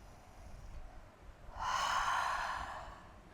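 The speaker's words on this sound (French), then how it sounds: "une grande expire géante, expire par la bouche" A big, breathy exhale pushed out through the mouth, swelling in the middle and fading away, close and alone over quiet room noise during a yoga session.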